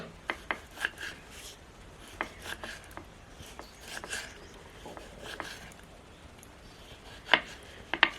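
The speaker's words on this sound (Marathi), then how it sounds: "त्याचे मस्त आडवे आडवे काप करायचे" A knife cuts potatoes into medium-thick crosswise slices in a rural Konkan kitchen, a sparse series of soft, close clicks and taps with irregular gaps and a few sharper knocks near the end, quiet overall.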